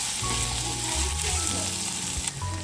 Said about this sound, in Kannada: ಈಗ ಇದಕ್ಕೆ ಸ್ವೀಟ್ ಕಾರ್ನ್ ಹಾಕ್ಕೊತಾ ಇದ್ದೀನಿ